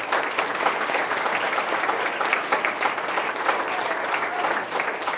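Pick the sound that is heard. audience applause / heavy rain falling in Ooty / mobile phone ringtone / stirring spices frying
audience applause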